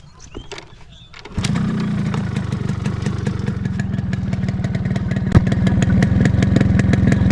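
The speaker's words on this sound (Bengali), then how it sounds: "তো চলুন তাহলে আমার এই বাইকের সাউন্ড শোনানো যাক।" A 30-year-old Yamaha RX100 two-stroke motorcycle is kicked over with a few clanks, then catches and idles loudly nearby with a fast, rattly, even putter that holds steady.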